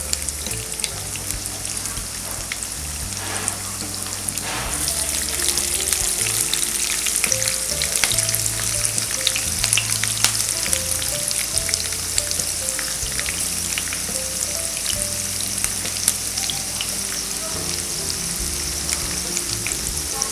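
Green chillies and cumin fry in ghee in a pan, giving a continuous close sizzle and crackle under faint background music.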